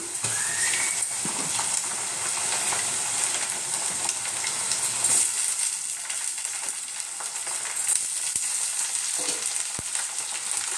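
Cabbage, chicken, beans and potato fry in a hot pan as ginger and garlic go in, a steady close sizzle with occasional scrapes and stirring clicks, no talking.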